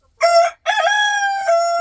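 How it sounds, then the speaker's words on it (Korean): A household rooster crows once, loud and close, a harmonic cock-a-doodle-doo with a short break after the opening note and nothing else behind it. "여기 지금 우는 게 우리 집수탁 순돌이고요."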